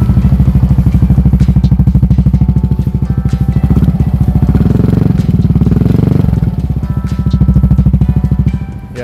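A used motorcycle with an aftermarket Tom Project exhaust and 38,000 km on the odometer idles and runs steadily after starting, a loud, close, continuous rapid putter with slight swells in rhythm and no talk.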